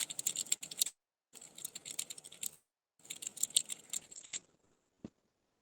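Text being typed on a computer keyboard in PageMaker 7.0, three quick bursts of close key clatter separated by short pauses, ending with a single louder keystroke.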